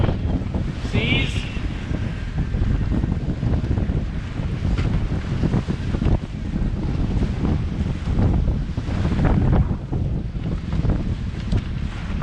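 Strong wind buffets the microphone aboard a sailboat driven by its jib through rough, choppy seas, with a loud, continuous roar of rushing air and water across the whole stretch.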